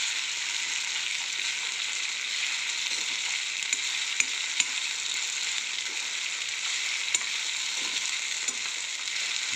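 Sabudana (sago pearls) stirred and frying in a pan for khichdi, giving a steady, even sizzle throughout with a few faint scrape or tap clicks from the spoon, no voices.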